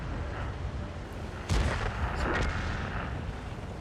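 A T-54 Lightweight tank's main gun fires once in a video game battle, a loud deep boom followed by a rumbling tail, set over a steady bed of in-game background noise.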